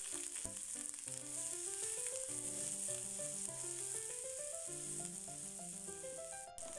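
Mustard seeds and chopped onion fry in coconut oil for a Kerala vazhakka thoran, a raw plantain stir-fry, giving a steady sizzling hiss under melodic background music.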